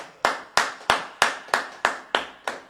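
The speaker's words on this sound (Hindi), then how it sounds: "एक अच्छी ताली बजाकर" A church congregation claps in unison during worship, eight sharp, evenly spaced claps in a steady rhythm, close and crisp with no talking.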